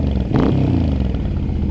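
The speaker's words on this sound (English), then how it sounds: "I still do like this bike a lot. It rumbles nicely" A Suzuki M50 motorcycle engine idles with a loud, steady low rumble and a brief clattering burst near the start, no voices over it.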